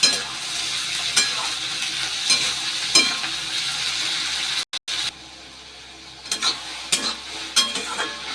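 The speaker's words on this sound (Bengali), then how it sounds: "এটা ভাজবো এবারে। ভাজা হচ্ছে" Onions, tomatoes, peas and green chillies fry with salt in a pan, a continuous close sizzle punctuated by scraping stirs of a spatula, briefly cutting out midway before resuming more quietly.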